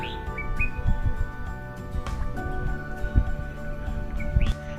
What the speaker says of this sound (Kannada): ಪಕ್ಷಿಗಳ ಸೌಂಡು